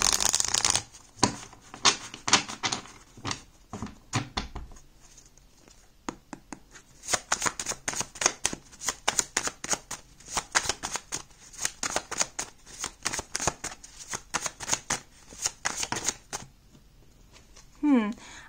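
Crisp, rapid riffling of a tarot card deck in repeated bursts, close and quiet, with short pauses between shuffles and a brief voice at the end.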